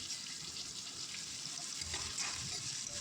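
Sliced big onions and whole spices fry in two tablespoons of hot oil for a Kerala-style mutton roast, giving a steady, close hiss and sizzle throughout with no talking.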